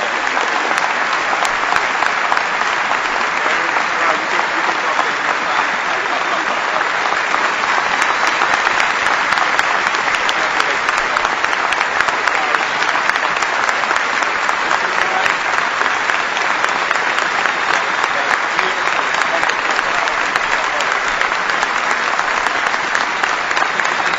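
Steady, sustained audience applause for an award recipient at First Baptist Church of Hammond's Pastors School, a large crowd clapping continuously and evenly for over twenty seconds.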